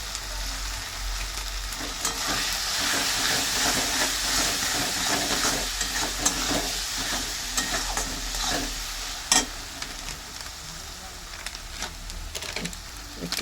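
Spices, green chillies and garlic fry in a pan with turmeric added, a continuous sizzle and hiss broken by repeated stirring scrapes and clinks, fairly close, with no speech.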